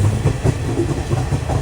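A passenger train on the Colombo to Ella line in Sri Lanka rumbles loudly from on board, with a rhythmic clatter of wheels over rail joints across a brief moment.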